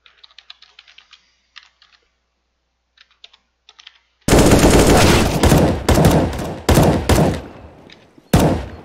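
Computer keyboard typing during an online shooter match on the Inferno map: sparse, quiet key clicks at first, then loud rapid bursts of gunfire that drown them out.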